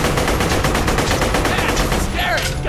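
Rapid automatic gunfire from the video game Borderlands: The Pre-Sequel, a dense continuous barrage with sharp repeated bursts, loud and close throughout, with faint voices underneath.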